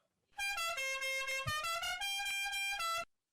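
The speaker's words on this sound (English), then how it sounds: "a car just honked out beside my window" A car horn blares in one sustained honk lasting nearly three seconds, loud and brassy, its pitch wavering slightly.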